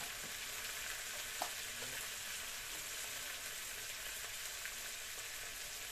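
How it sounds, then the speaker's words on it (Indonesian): Eggplant sambal sizzling in a pan after a little water goes in, a constant hissing crackle at low level with a brief tap near the start, no voices. "Kemudian saya tambahkan sedikit air."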